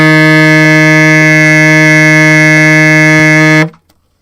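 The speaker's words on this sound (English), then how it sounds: "I'm now going to play third space C on the baritone sax" A baritone saxophone holds a single sustained low note, third-space C, loud and steady with rich harmonics for about three and a half seconds before cutting off cleanly.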